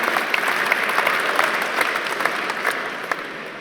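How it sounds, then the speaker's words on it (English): Audience members at a livestreamed Get in the Ring pitch event in the Netherlands applaud, a close, full burst of crowd clapping with a few sharp individual claps poking out, lasting under four seconds. "Let's have a round of applause for that."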